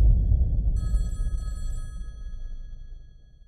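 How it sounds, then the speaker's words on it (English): A telephone rings in a home, a single electronic ring burst heard alone over a low rumbling background that fades away. "Phone's ringing."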